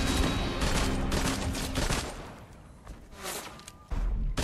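Rapid gunfire from Dualies pistols in a video game, with dense bursts of sharp shots in close succession, then a pause and another burst near the end, loud and with no talk over it.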